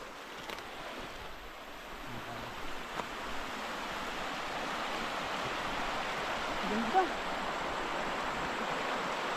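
Swollen Mambog River in monsoon season, its rushing water a steady, loud broadband roar that fills the whole stretch without pause.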